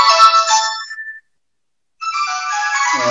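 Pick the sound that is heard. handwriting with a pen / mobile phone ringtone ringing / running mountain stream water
mobile phone ringtone ringing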